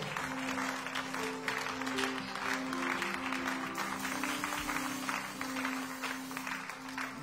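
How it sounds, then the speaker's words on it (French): A church congregation applauds at a Sunday worship service, with steady, sustained clapping from many hands filling the room. Organ or keyboard chords hold underneath throughout. "Est-ce qu'on peut applaudir pour le roi des rois?"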